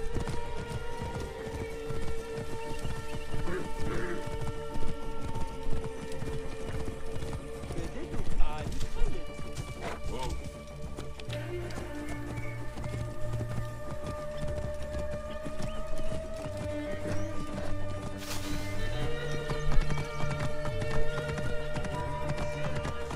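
A horse in Assassin's Creed Origins trots with a steady clip-clop of hooves beneath in-game character dialogue and a soft musical score, continuing throughout.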